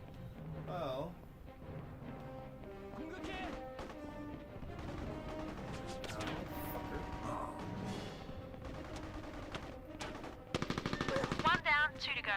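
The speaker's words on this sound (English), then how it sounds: "those machine guns could be dangerous" Machine gun fire rattles in a PS2 war video game, with bursts of shots and clanking mechanisms over background game sound and dialogue, ending in a louder rapid burst.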